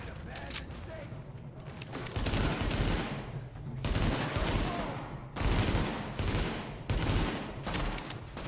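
Rapid gunfire from Tom Clancy's The Division, several loud bursts of automatic fire repeating every second or so under ongoing talk, with busy game effects between volleys.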